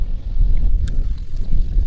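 Heavy wind buffets the microphone, a low rumbling roar that churns steadily throughout with no voices.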